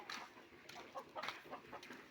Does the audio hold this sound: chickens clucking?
yes